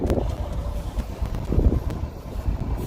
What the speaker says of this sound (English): Rather windy out here.